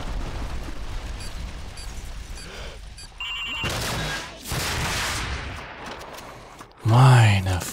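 Heavy gunfire in Call of Duty 4: Modern Warfare crackles in rapid volleys with booming blasts mixed in, loud and continuous, ending in a deep rumbling explosion.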